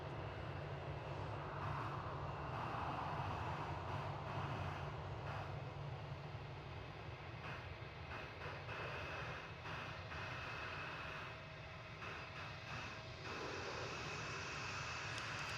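A Lufthansa 747-8 jet at DFW Airport, a steady distant engine roar and rumble that holds throughout without clear rise or fall.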